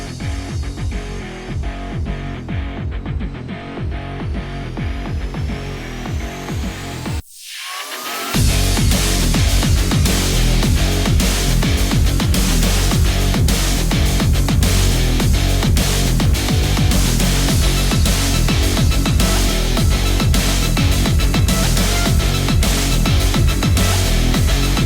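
A power sander works steadily over the body panels of an MK4 Supra being prepped for paint, giving a loud, continuous abrasive whir that cuts out briefly before resuming at full strength.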